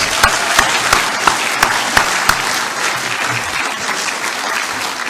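A round of applause for Anna from the audience at a school alumni awards evening, loud sustained clapping from a full room with a few distinct sharp claps near the start.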